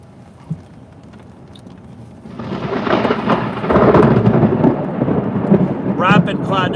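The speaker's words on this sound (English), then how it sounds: "That was a very close strike." Thunder from a close cloud-to-ground lightning strike during a tornado-risk storm in Alabama swells into a loud, sustained rumble over steady rain, with a faint voice near the end.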